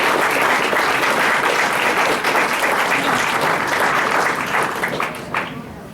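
A crowd at the Bangor Comic-Con 2016 cosplay contest gives a contestant a big round of applause, loud and full at first, then thinning and fading toward the end.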